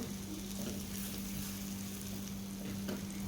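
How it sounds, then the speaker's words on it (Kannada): Masala sizzling in hot oil in a pan for rajma masala, a steady close frying hiss with faint stirring scrapes, no voices. "ಎಣ್ಣೆಯಲ್ಲಿ ಮಸಾಲವನ್ನೆಲ್ಲ ಹುರಿದಾಗಿದೆ"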